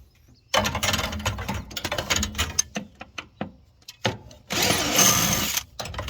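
Bursts of a power drill driving screws on an air conditioner unit, stopping and starting several times, with a longer sustained run near the end; close and fairly loud.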